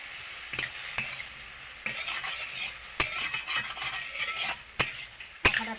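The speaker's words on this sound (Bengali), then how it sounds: "এই মাংসটা রান্না করা হচ্ছে" Meat cooking in a pan with salt and turmeric, sizzling softly while a utensil stirs and scrapes, with sharp irregular clanks of metal against the pan standing out close by.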